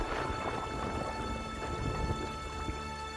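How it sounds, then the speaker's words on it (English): Heavy rain and hail pouring down in a violent storm over a village, a dense, continuous roar of falling water with scattered pattering impacts, steady and loud throughout with no voices. "Hail and rain incessantly poured down on Vrindavan."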